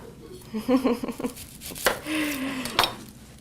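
A knife cuts through half of a very large industrial onion on a board, with a few crisp chops and taps at close range and brief, faint voice-like sounds in between.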